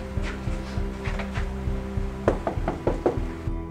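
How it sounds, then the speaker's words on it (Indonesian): Knocking on the door of a rented house on a rainy day, a series of sharp raps in small groups over a steady low hum, ending with a louder cluster of knocks. "Ini kita ketok pintu berapa kali,"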